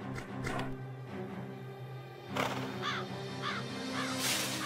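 Cartoon crow cawing in an animated horse show, several harsh rasping caws in a row layered over dense music and background effects, fairly close and prominent.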